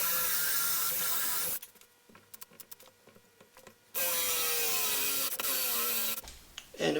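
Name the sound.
cordless drill boring holes in wood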